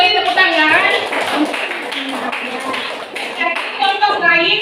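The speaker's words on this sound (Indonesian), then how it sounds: "Beri tepuk tangan." Pupils in a school social-studies class clap together for a correct answer, a busy patter of claps from around the room mixed with children's voices and chatter.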